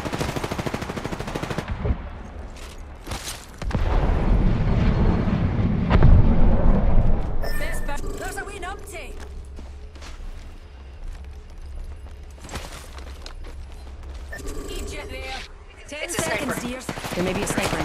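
Rapid automatic gunfire and explosions from a battle royale video game playing as Wraith, loud bursts in the first seconds followed by sporadic shots and effects, with a player's voice talking over parts of it.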